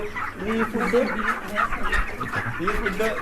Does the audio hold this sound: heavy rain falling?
no